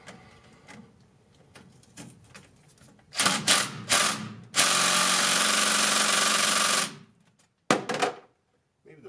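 A DeWalt impact wrench hammers at crusty differential bolts on a pickup truck, with several short loud bursts and one long sustained rattling run amid clanks of metal.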